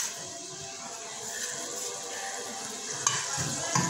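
Onions frying in a pan with garlic, ginger and green chili paste for Lahori chicken pulao: a soft continuous sizzle with stirring scrapes and two sharp utensil clicks near the end, fairly quiet.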